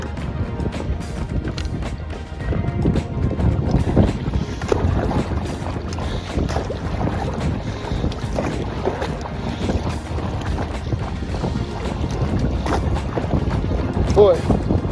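Strong wind roars across a kayak on Lake Britton, a modified Intex K2 Excursion Pro, a loud continuous buffeting with water slaps and paddle splashes throughout.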